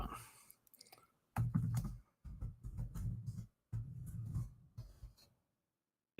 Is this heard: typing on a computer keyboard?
yes